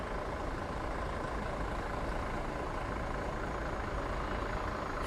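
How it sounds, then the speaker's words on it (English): A fleet of transfer buses waits outside Palma de Mallorca Airport, giving a steady, low idling engine rumble with broad background noise throughout, moderately distant and without talk. "So we've got a whole load of transfer buses here waiting to head out to the resorts."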